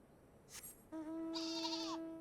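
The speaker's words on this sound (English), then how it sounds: "Sheep." A sheep in Final Fantasy XIV gives one bleat, heard alone and fairly faint: a brief noisy onset followed by a steady, tonal wavering cry.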